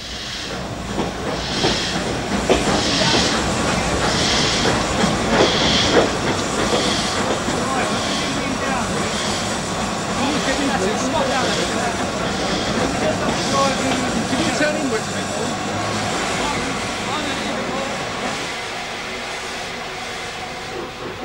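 An LNER N2 steam locomotive heads to the coaling stage at a steam-age depot, giving a loud, steady hiss with rail rumble that runs continuously, with a few stronger surges early on.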